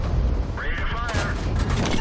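A Turan III tank cannon in World of Tanks fires amid continuous battle noise, a sharp boom with a ringing tail followed by further bursts of gunfire-like impacts, loud and close throughout.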